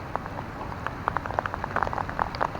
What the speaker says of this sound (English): I said it might rain.